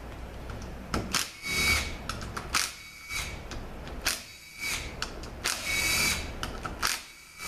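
A power tool drives in valve body bolts on a 6L50 transmission, with short close bursts of whirring that stop and start between quiet gaps.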